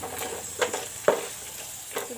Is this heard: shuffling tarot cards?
no